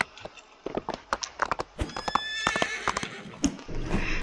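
A horse in the video game Wild Horse Islands gives a series of sharp whinnies and snorts mixed with hoof clip-clops, close and fairly loud with short pauses between calls.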